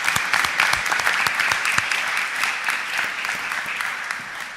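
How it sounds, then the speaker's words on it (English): Applause for a Parks and Recreation worker's retirement at a Philadelphia City Council honoring. A room full of people claps steadily and densely throughout, loud and close, with no talk over it. "Please join me in giving him a round of applause"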